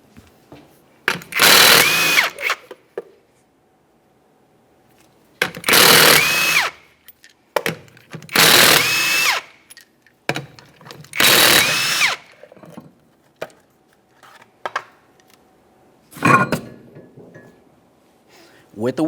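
A power tool buzzes in four loud, short bursts, removing 19mm lug nuts from a rear wheel of a 1994-1997 Honda Accord, with quiet gaps between bursts and a few softer clanks near the end.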